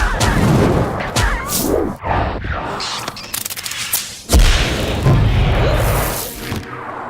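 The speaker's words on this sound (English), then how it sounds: "I heard some whooshes, some explosives, some firecrackers, some electricity, and even a couple animal noises" A rapid montage of magical film effects: sharp bangs, booming explosions, crackles and sweeping whooshes, loud and close, one after another.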